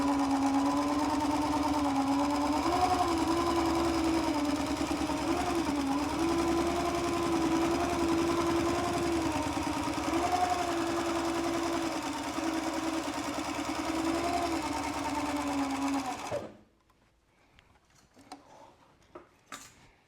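A sewing machine runs steadily while side stitching a leather tote, making a continuous mechanical whir with a fine rapid ticking for about sixteen seconds, then it stops abruptly and only a few faint handling noises remain.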